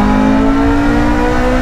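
A Ferrari F355 Spider's 380-horsepower engine, which revs past 8,200 rpm, sings at high revs, a loud, steady, close-up mechanical wail with rich tonal harmonics and no voices over it.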